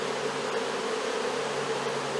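A honey bee swarm buzzes in a steady, dense drone, close and continuous, with no talking.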